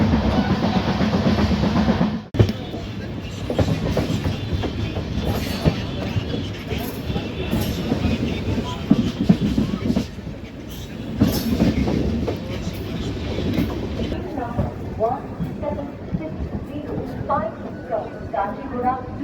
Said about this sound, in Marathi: आपली भगत की कोठी एक्सप्रेस पोहोचली आहे खंडवा जंक्शनवर